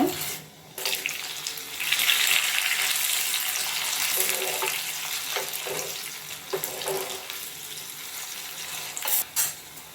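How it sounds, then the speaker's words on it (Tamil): Urad dal and chana dal fry in hot oil, giving a steady, loud sizzling hiss with a few soft clinks and no talk. "இப்போது அதில் உளுத்தம் பருப்பு ஆட் பண்ணுறேன் கடலைப்பருப்பு"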